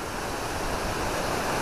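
Munduk waterfall tumbling down a tall cliff-ringed drop, a loud, dense and steady roar of falling water with no pauses, heard alone and close.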